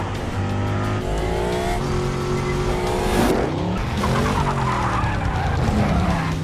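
A black car in a John Wick action film roars and skids, tires squealing loudly over a revving engine for the whole stretch, with no talk over it.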